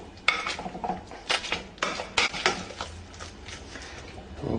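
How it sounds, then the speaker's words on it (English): Potatoes mashed with butter, sour cream and milk in a pot, heard as a run of irregular scraping clinks and knocks of a masher against the pot, close and moderately loud, with no talking. "And now we get mashing."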